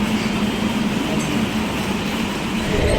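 Inside a moving Mumbai local train, a continuous loud rumble and rattle of the carriage on the rails fills the whole stretch, with faint clinks over the steady noise.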